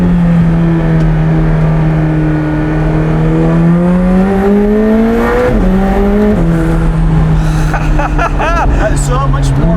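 A McLaren 765LT with a roof scoop pulls hard, its engine droning loudly and climbing in pitch through gear changes, with a short sharp rise and crackles near the end and voices talking inside the cabin.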